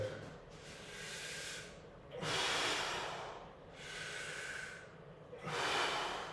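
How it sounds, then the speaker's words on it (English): Heavy, rhythmic breathing during a hard home workout, three long loud exhalations alternating with quieter inhalations, close to the microphone, with no talking. "I'm breathing out as I reach forward, breathing in as I tuck it"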